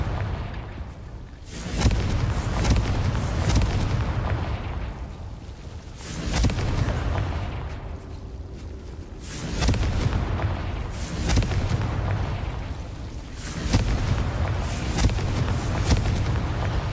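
Repeated booming fire-spell blasts from the Hogwarts Legacy video game, several heavy explosions spaced a few seconds apart, loud and close with rumbling tails between them.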